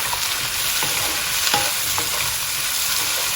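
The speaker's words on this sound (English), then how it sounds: "now I'm going to add the chopped up cauliflower florets, half a cauliflower. And then continue to cook on high heat" Chopped cauliflower florets with onions frying on high heat in a pan, a steady close sizzle with occasional stirring scrapes and clicks throughout.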